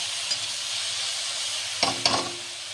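Brinjal pieces coated in a mustard, cumin and green chilli paste sizzle steadily in a pan, a soft continuous hiss broken by a few brief clinks of a utensil near the end.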